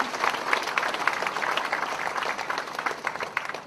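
Audience applause for a translator at a Buddhist dharma talk, a steady wash of many hands clapping at moderate volume throughout, with no talk over it.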